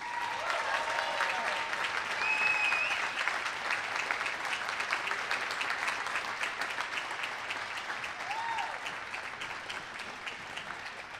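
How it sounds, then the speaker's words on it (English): A gym crowd applauds steadily at a varsity girls basketball game, North Fond du Lac at Winnebago Lutheran, with dense clapping throughout, a few whistles and shouts rising above, tapering slightly toward the end. "Ladies and gentlemen, a round of applause for Steph Janke."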